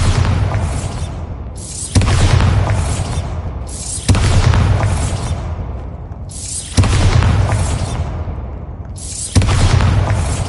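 The Bombarda spell explodes in the video game Hogwarts Legacy, with four loud booming blasts spaced a few seconds apart, each striking sharply and then fading into a rumbling tail.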